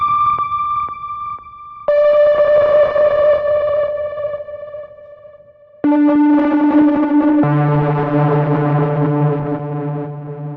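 Horror signature synth sound designed in Vital, played as sustained, metallic, bell-like tones in different octaves, starting with short repeated pings before longer eerie held notes that shift lower and grow denser and distorted, loud and alone.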